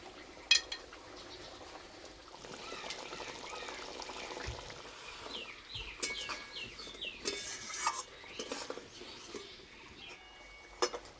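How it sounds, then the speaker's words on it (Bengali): Rohu fish curry with mustard paste simmering in a pan, a soft bubbling and sizzling bed with scattered utensil clinks and stirring scrapes, close and moderate in level, no talk. "এই যে মাছের ঝোলটা ফুটছে"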